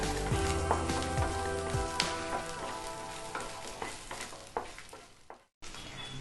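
Three dried red chillies fry in hot oil for a pappadam chutney, a dense crackling sizzle with scattered pops and stirring clatter, briefly cutting out near the end.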